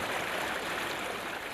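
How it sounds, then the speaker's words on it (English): A mountain stream runs in a steady, broad rush of water, loud and continuous, with no voices. "The mountain runoff funnels through systems of streams and small lakes"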